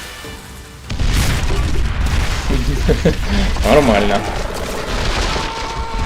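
In the video game Call of Juarez Gunslinger, a house is demolished by explosions: a heavy boom hits suddenly and rolls into a sustained, rumbling crash of debris, with someone speaking briefly over it.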